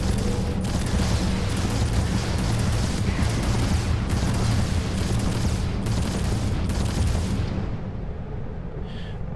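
Spaceship weapons firing in the Starfield video game, a dense, continuous barrage of booming blasts with sharp bursts recurring about every second, loud and close, with no talk until the firing eases near the end.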